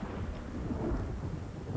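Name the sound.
rain and thunder in video game Project Zomboid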